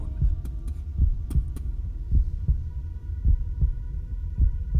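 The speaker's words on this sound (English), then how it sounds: "You hear the heartbeat start echoing in your mind." A deep, throbbing heartbeat sound effect used during a tabletop Dungeons & Dragons session pulses loudly and evenly, roughly twice a second, with a low humming undertone and no voices.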